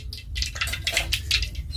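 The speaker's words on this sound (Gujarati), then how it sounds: "રાઈ ફૂટી જાય એટલે હવે નાખીએ." Mustard seeds popping in hot oil produce quick irregular crackles and sharp pops over a low background hum, close and moderately loud, with no talk.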